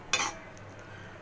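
A utensil stirs butter into a milk-based pointed gourd curry in a pan, giving one brief clinking scrape that fades into a quiet simmer.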